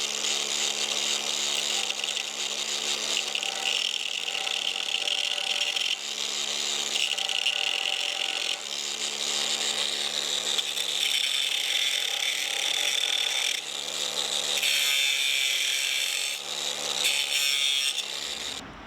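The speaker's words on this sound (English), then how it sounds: "I got that crack ground out on the outside" A grinder grinds out a crack on old farm equipment, a continuous high abrasive whine held close and loud for the whole stretch, dipping briefly where the tool shifts against the metal.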